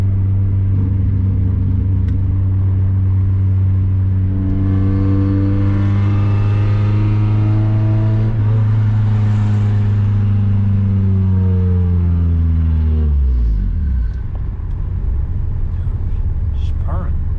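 An H22-swapped car engine accelerates hard, a loud sustained rumble rising steadily in pitch through the revs, then dropping sharply as it shifts or backs off, with people talking and exclaiming over it.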